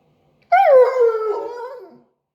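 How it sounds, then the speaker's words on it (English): A husky howls and whines for food in one long, loud, drawn-out cry that rises sharply, then slowly falls and fades, heard close up with no talking. "Why are you yelling already, Riley?"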